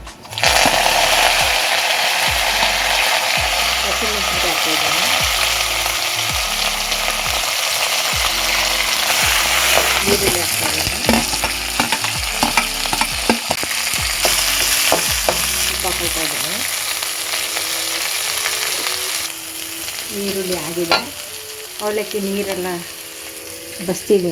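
Chana dal and curry leaves crackle and sizzle in hot oil, a loud, continuous frying hiss with stirring scrapes; a voice speaks briefly over it.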